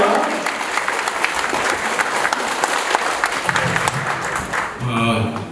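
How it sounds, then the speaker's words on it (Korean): An audience at a lecture event in Gyeongju gives sustained applause, with a voice speaking over the clapping near the end. "큰 박수 보내주십시오"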